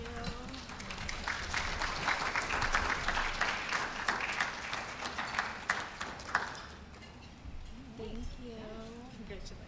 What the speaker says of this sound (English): all the applicants should be applauded